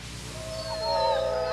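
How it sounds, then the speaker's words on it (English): A grey wolf gives a single drawn-out tonal howl that rises and wavers in pitch, fairly loud and alone over a faint low background hum. "Canine clue number 1, the grey wolf."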